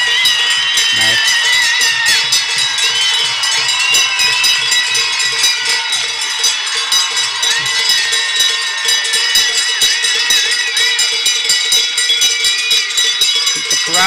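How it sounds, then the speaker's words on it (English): A stadium crowd at a Switzerland versus Belgium sports match cheers wildly, a dense roar with whistles, horns and cowbells ringing throughout, loud and sustained for the whole stretch. "The crowd goes absolutely crazy here."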